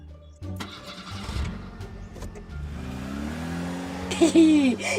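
A car engine cranks and catches, then settles into running with a mid-pitched hum that rises as it revs near the end, heard close with faint background sounds.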